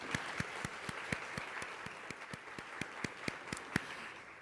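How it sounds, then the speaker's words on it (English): An audience applauds partners at a fashion innovation event in Columbus, with a steady crowd of claps under which one clapper stands out as a close, regular, sharp rhythm. "So let's give all of those partners a round of applause."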